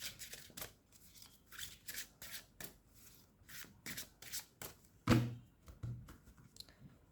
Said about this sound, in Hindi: हम एक और कार्ड ले लेते हैं गाइडेंस के लिए